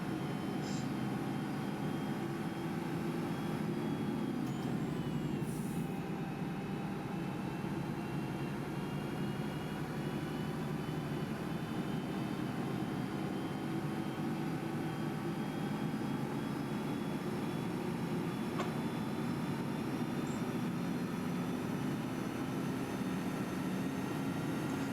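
Dennis Trident ALX400 double-decker bus running in the OMSI 2 simulator, a steady low engine drone with a constant broad hum and slight shifts as it locks into gears, continuous and unbroken with no talking.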